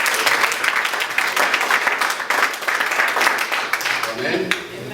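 Wedding guests applaud loudly and steadily for about five seconds, a dense, sustained burst of clapping from a crowd.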